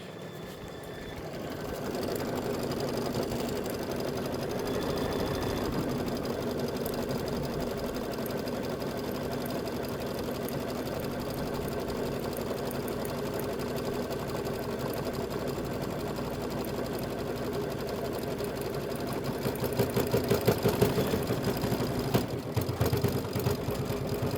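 A computerized embroidery machine stitches a quilt applique block for a Kimberbell Wallflower quilt, giving a steady, close, rapid mechanical hum and needle chatter that runs unbroken and grows slightly louder near the end.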